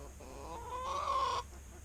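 A chicken gives a drawn-out, rising cluck close by, loud and clear over a steady low background hum.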